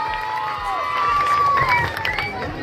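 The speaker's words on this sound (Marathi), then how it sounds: "जोरदार टाळ्या झाल्या पाहिजे संख्येसाठी." A crowd cheering and shouting at a live Marathi rap performance, loud and continuous with whistles and raised voices blending together, close by.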